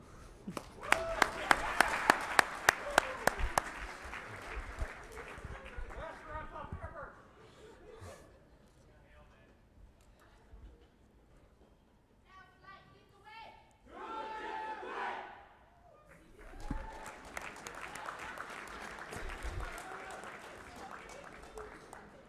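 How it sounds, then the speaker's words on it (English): A crowd at a military graduation ceremony claps and cheers loudly at first, the applause fading out, followed by a voice speaking and more scattered cheering and clapping later. "A big round of applause for all of our graduates"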